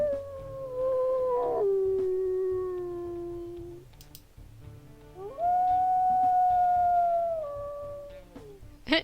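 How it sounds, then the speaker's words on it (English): Wolves in the game WolfQuest give two drawn-out howls, each a rising then falling wavering tone, separated by a short pause, clear and fairly close with no talk over them. "Short howls."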